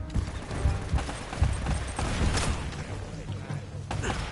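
Gunfire in the Uncharted video game comes as a fusillade of quick, scattered shots with mechanical clatter, fairly close at moderate loudness, over a continuous game background with no clear speech.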